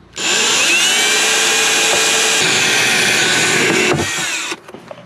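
A power drill bores a hole in a homemade car part with one loud, steady whine lasting about four seconds. It falls briefly in pitch under load, then stops, and a few faint clatters follow.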